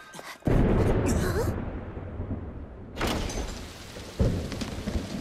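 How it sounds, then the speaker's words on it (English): A cartoon thunderstorm with heavy rain: a steady downpour hiss is broken by loud thunder cracks and rumbles, with a sharp burst near the end. "they summoned rain. But they overdid it and created a storm instead."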